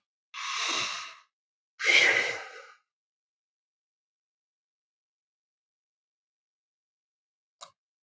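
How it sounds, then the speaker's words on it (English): Two slow, deep breaths, each a long airy exhale lasting about a second, close and soft, followed by several seconds of silence and a tiny click. "taking a few deep breaths as a way of settling into the body"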